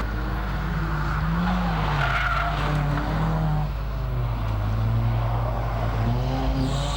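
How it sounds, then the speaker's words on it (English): A TX3 Laser race car climbs a mountain hillclimb course, its engine droning loudly and continuously with rising and falling pitch as it works around the hairpin, tires squealing. "As Mark Lacey makes his way to the top of the mountain in the TX3 Laser"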